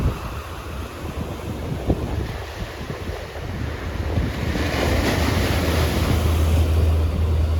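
Strong wind buffets the microphone at Bengre beach near Mangalore while sea waves surge and roll in, a loud, rushing, continuous roar that builds toward the end, with no one talking.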